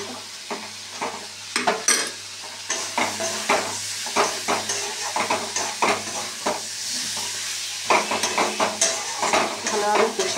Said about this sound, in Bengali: পটল দিয়ে ভালো করে কষিয়ে নিলাম